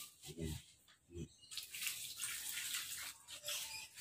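Water is poured onto a potted Bidara bonsai in quiet splashes and trickles, a couple of brief low thuds coming first, then a softer, steadier pour.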